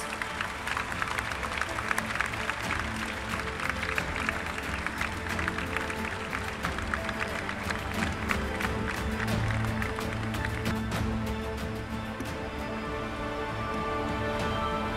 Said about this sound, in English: let's give a big round of applause to our future dreamers